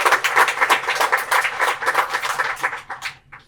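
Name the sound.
applause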